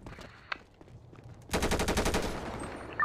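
Rapid automatic gunfire in a GTA roleplay shootout: a single sharp shot early, then a sustained burst of fast, evenly spaced rounds that stays loud to the end, with a final crack at the close.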